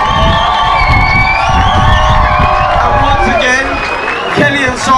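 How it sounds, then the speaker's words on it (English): Cheering and clapping from a pub crowd at a surprise fundraising gig at a tavern, whoops and shouts ringing over steady applause close by, with a talking voice threaded through. "Round of applause for yourself."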